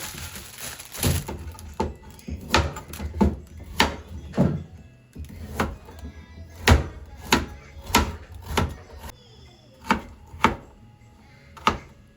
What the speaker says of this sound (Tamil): ஒரு ஹாஃப் கேரட்டையும் நறுக்கி போட போகிறேன் மக்களே